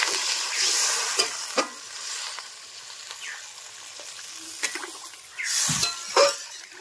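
Water poured into a pan of frying potato masala for a fish curry, a bright hissing sizzle that fades to a quieter bubbling with scattered stirring clinks, then flares again briefly.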